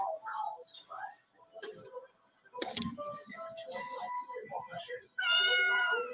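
A costumed cat meows several times, the cries mixed with a person's talk and rustling, ending in a loud drawn-out yowl close by.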